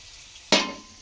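Potatoes frying in a pan: a sudden sharp sizzle bursts up midway, then fades gradually into a soft hiss, with quiet kitchen background before it.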